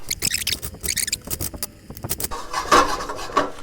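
Ingredients with pepper and breadcrumbs are tossed in a bowl, giving close scraping and rubbing strokes in quick uneven bursts, with a clink of utensil against the dish, then a softer rustling mix.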